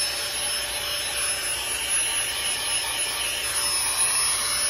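AEROGOGO GIGA PUMP 4.0 portable air pump running, a steady close whirring fan hiss with a faint high whine, constant throughout and without talk.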